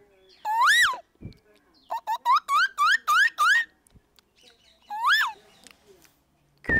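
A voice imitates a koel's call: rising, whistle-like hoots, a single one first, then a fast run of five or six in a row and one more later, loud and close.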